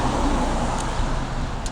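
A deputy sheriff's vehicle from Crawford County passing by on a road, a steady, fairly close rush of tyre and engine noise with no speech over it.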